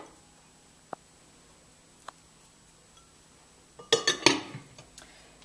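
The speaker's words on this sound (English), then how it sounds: "I am going to mix in some finely chopped red pepper" Finely chopped red pepper being stirred into cauliflower rice, a few sparse light ticks followed by a brief cluster of spoon clinks and scrapes against a bowl, close and quiet with no talk.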